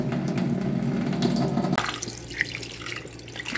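Tap water runs steadily into a kitchen sink while shrimp and other seafood are rinsed, a dense close splashing flow that drops to a thinner trickle partway through, with light clinks.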